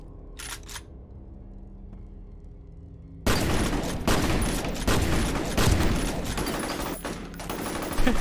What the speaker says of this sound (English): He's like panic firing at me.